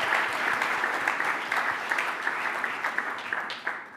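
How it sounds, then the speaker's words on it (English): An audience at an expo applauds, a steady and fairly close burst of many hands clapping that holds for several seconds before tapering off. "So please, a quick round of applause for y'all on this one."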